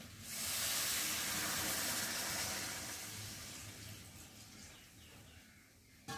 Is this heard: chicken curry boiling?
yes